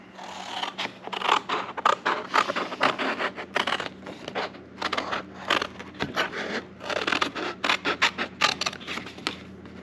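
Scissors snip repeatedly through a piece of webbing being cut out from a template in a motorcycle workshop, a quick series of close, crisp cuts and scrapes with brief pauses between them.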